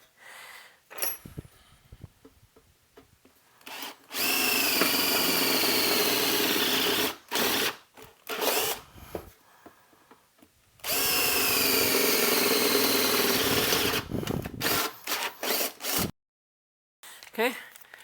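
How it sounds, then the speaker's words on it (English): Electric drill boring tube socket holes through a tube amplifier chassis, two long sustained loud whining bursts of several seconds each, separated by quieter handling noises and clatter. "we still got to drill the holes for the tube sockets"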